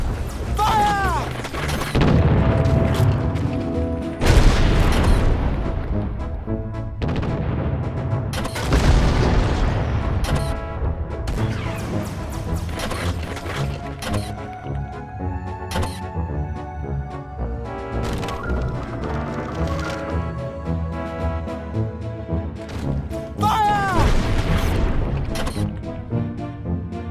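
Ship torpedoes and cannon fire from a Treasure Planet space battle game boom repeatedly, heavy blasts recurring every few seconds over a droning musical score with whooshing sweeps, loud and layered.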